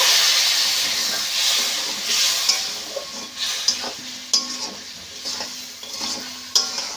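Spice paste being worked with a spoon in a hot pan with potatoes and chickpeas: a continuous soft hiss and sizzle with several scraping strokes and light clinks against the pan, no talk.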